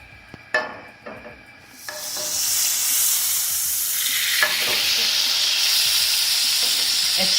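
Two tablespoons of butter melting in a pan for Ukrainian-style stuffed cabbage: a few soft knocks, then a steady, loud, hissing sizzle that rises and holds to the end.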